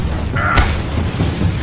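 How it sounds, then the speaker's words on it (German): Max Payne 3 gunfight ambience, with objects in the scene shattering and exploding: a sharp crack and bang about halfway through, set in a dense, loud rumble of noise. "Bei Feuergefechten zersplittern verschiedenste Objekte in der Umgebung"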